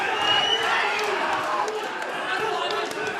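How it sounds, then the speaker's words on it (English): Spectators at a kickboxing fight roar and cheer loudly and continuously through the whole moment, a dense wall of crowd noise with scattered shouts and thuds under it. "the crowd absolutely going wild now"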